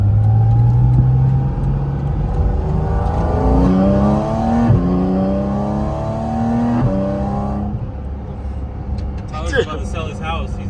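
A Porsche 718 GT4 RS with a PDK gearbox revs hard, its rising engine note stepping through quick shifts and then sharp crackling downshifts near the end, loud and close, with people talking over it.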